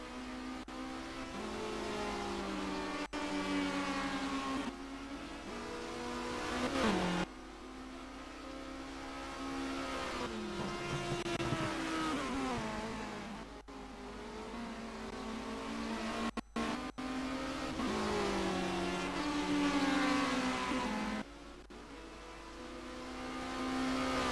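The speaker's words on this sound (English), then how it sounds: "And there goes Barker, goes off the track a bit." Touring cars race in a BTCC 2014 simulation round at Donington, UK, their engines loud and close in a steady roar of revving that rises and drops through gear shifts, with no talking over it.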